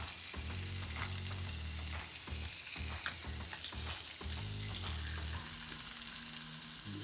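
Kokanee fish sizzling and frying in a pan, a steady close crackle and hiss with intermittent low clunks, no talking.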